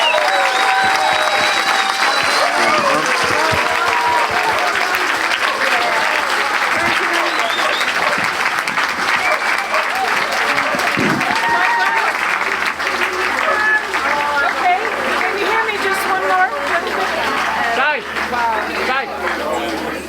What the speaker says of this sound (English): I want a huge round of applause, please.